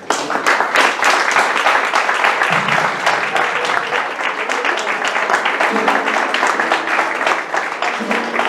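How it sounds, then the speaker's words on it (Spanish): An audience at a poetry evening applauds a woman poet, loud dense clapping that carries on steadily for over eight seconds, close and full, with a few faint voices mixed in beneath. "se merece un fuerte aplauso esta gran mujer"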